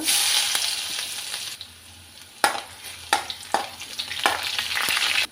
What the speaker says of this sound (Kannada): ಈರುಳ್ಳಿ ಕರಿಬೇವು ನೀರುಳ್ಳಿ ಒಟ್ಟಿಗೆ ಹಾಕ್ಕೊಂಡು ಚೆನ್ನಾಗಿ ಫ್ರೈ ಮಾಡಬೇಕೀಗ